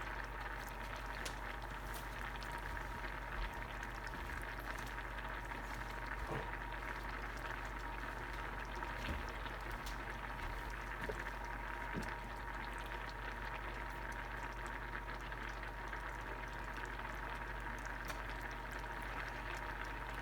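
Jasmine rice boiling steadily in a pot on the stove, a constant low bubbling and simmer that holds even and unbroken at moderate, close range with no talk.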